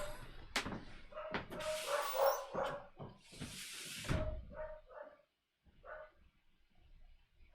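A dog barks in several sharp, loud bursts close by, with whimpers and pauses between the barks.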